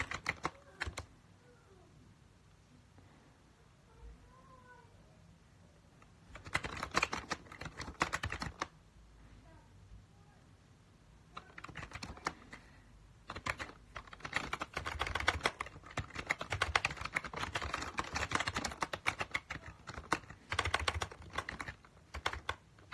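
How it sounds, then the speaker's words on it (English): Bursts of clicking keystrokes on a computer keyboard come and go, quiet and close, with pauses between flurries of fast typing. "I type very good, like, I type maximum words a minute."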